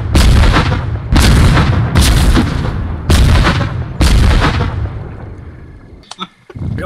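Artillery guns fire in the war video game Foxhole: five heavy, loud booms at roughly one-second intervals, each with a long rumbling tail, followed by fainter sharp clatter.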